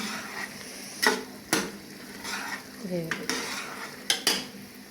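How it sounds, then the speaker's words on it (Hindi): Chickpea masala roasting in oil and ghee, with a few sharp metal clanks and scrapes of a utensil against the pot over a soft sizzle, spaced irregularly and close up. "अब इसको मैं भूनूँगी"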